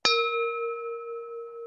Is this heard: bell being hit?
yes